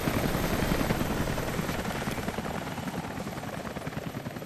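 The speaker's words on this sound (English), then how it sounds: "The chopper." A helicopter flies in the video game Rise of the Tomb Raider, its loud steady rotor chop and turbine whine filling the scene continuously, with no talk over it.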